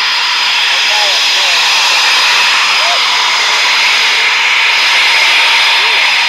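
A Eurofighter Typhoon military jet taxiing at RAF Coningsby gives a loud, steady, hissing engine roar that fills the whole clip, with faint voices underneath.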